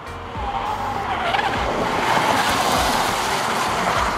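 Genesis GV70 test car lapping the Nürburgring, a quiet engine under a rising whoosh and rumble of tires as it passes fairly close, with tire noise through the corner.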